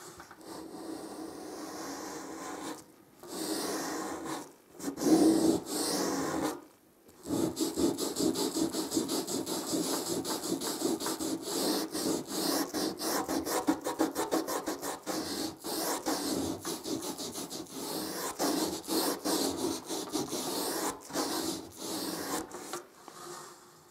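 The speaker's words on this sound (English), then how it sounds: "So I've rubbed that out, but also I've now got paint on the cloth." A cloth dampened with bleach rubs steadily against a painted emulsion wall to lift a stain, a close, continuous scrubbing broken by a few brief pauses.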